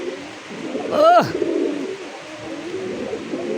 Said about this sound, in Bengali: আর কলসি গলা ডাক কারে কয় দেখেন